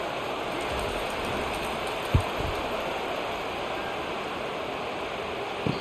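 Steady rain hisses across a simulated college football game between Clemson and Georgia in the EA College Football video game, a dense even wash that holds throughout, broken by a couple of brief low thumps.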